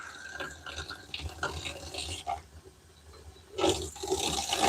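Warm water runs from a tap while an alkaline degreaser is mixed in a motorsports shop, a steady splashing stream that grows louder and more turbulent toward the end.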